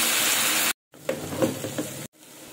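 Chicken with whole garlic cloves and vegetables sizzles loudly in a pan, broken by short stirring scrapes and brief pauses as the food is moved around.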